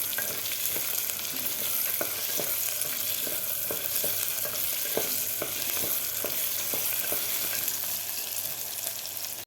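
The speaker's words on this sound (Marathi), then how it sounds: "काजू सुद्धा व्यवस्थित आपल्याला फ्राय करून घ्यायचे आहेत।" Onions and cashews fry steadily in a pan for a cool pulao, a continuous close sizzle with occasional light clicks of a utensil and no talking.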